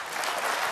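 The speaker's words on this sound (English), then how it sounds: "He gets some applause" Applause from a snooker audience, a brief, dense patter of clapping that swells slightly and carries on steadily for under a second.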